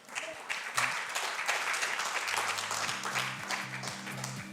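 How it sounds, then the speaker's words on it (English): Sustained applause from a conference audience at a Web3 summit, steady and fairly distant, with faint background noise and a low musical tone entering near the end. "let's give a round of applause"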